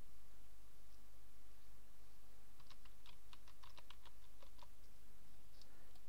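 A short burst of typing on a computer keyboard, quick light key clicks in a cluster over a steady background hiss, alone without speech.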